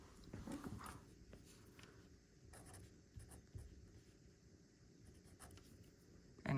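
A pen scratches out a temperature reading on paper, quick faint strokes and taps in short bursts with brief pauses, close and quiet in an otherwise still room.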